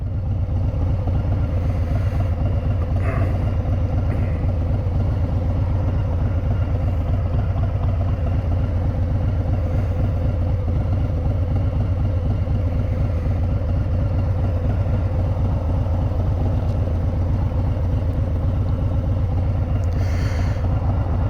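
A 2019 Harley-Davidson Breakout with a 107 engine being ridden gives a constant, heavy low rumble throughout, steady and loud with wind roar and no talk.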